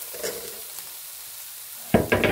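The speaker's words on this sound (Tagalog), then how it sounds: "At isunod na natin yung bawang." Garlic, two heads' worth, hits a pan over lowered heat, starting with a quiet low hiss before a louder burst of sizzling and stirring near the end, with no voices.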